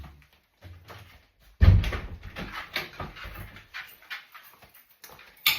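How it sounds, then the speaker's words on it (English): A back door shuts at home with a single solid thud midway through, followed by quieter shuffling and household movement, while dogs are nearby. "Right, let's shut the back door."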